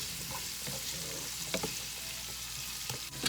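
Steady close sizzle of food frying in a pan on the stove, a continuous hiss with small pops and occasional stirring clicks, no voices.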